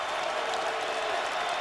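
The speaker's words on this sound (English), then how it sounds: "Crowd urging on the Lions defense" Detroit Lions home stadium crowd urging on the defense during an NFL game against the Falcons, a steady distant wash of cheering and clapping without clear peaks.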